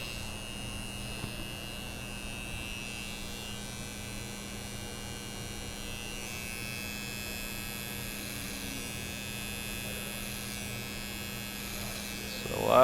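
An electric hair clipper hums steadily and close during a men's Viking haircut in a barbershop, a constant buzzing drone that runs unbroken throughout with no talk over it.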